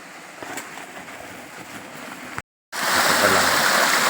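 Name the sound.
stream water flowing in a forest at night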